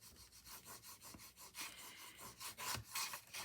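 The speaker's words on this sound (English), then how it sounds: "Burnish that down." Red liner tape on cardstock is rubbed down with a burnishing tool in quick back-and-forth strokes, a soft, close scratchy rasp that swells louder toward the end, with no voices.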